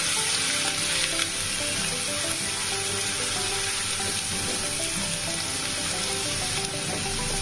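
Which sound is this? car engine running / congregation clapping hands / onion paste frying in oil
onion paste frying in oil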